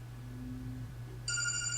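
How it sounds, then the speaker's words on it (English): A phone rings partway through, a bright electronic ringtone that starts abruptly and comes through fairly clearly over a quiet room with a low steady hum. "So, somebody's phone ringing."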